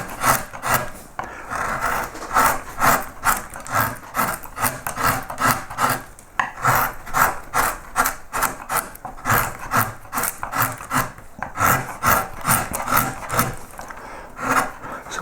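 A gouge cuts into wood during the first pass on a pierced relief carving of a yellow flag iris, making steady rhythmic scraping strokes at close range, one after another with brief pauses, with no talk.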